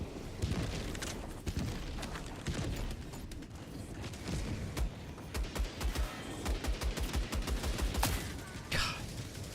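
Turret gunfire in a video game rattles through a dense, noisy battle mix, with rapid rhythmic bursts growing clearer and more regular toward the end.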